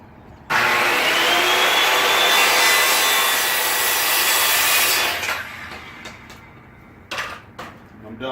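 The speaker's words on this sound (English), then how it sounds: "go ahead and fire up my circular saw. Chop right on through that line." A circular saw cuts through a wooden board for a homemade fishing rod pod. It makes a loud, close, harsh roar that holds for about four and a half seconds, then winds down into scattered clatter and bumps.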